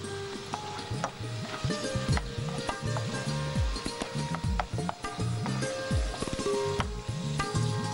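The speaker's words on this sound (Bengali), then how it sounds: "আর একটুখানি নেড়ে নিচ্ছি" Spiced food with Kashmiri chili powder being stirred in a pan, a spoon scraping and knocking in an irregular rhythm over a soft sizzle, close and moderately loud.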